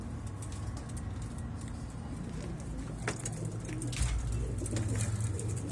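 Tumbler pigeons coo softly inside a loft with nesting pairs, low repeated throaty calls under faint background hum and a distant car.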